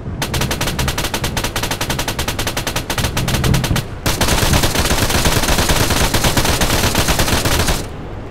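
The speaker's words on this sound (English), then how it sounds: "I heard a machine gun." Machine gun fire in a video game rattles in loud, rapid continuous bursts, first a sharply pulsed stream of shots and then a denser, sustained barrage that cuts off near the end.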